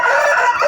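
A Bangkok rooster crows once, loud and close, a short strained call with no other sound around it.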